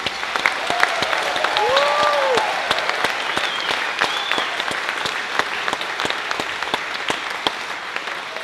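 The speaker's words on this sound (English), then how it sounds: "Audience, can we please have a nice loud round of applause for the students on stage?" Audience applause for seventh grade band students on stage at a school band concert: dense, steady clapping from a crowd that fills the room, with a few whistles and cheers rising over it early on before tapering slightly.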